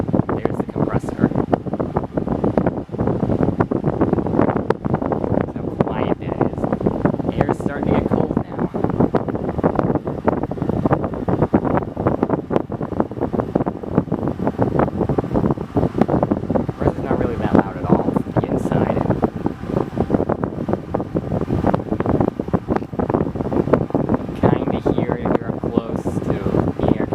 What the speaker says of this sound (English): There's the compressor.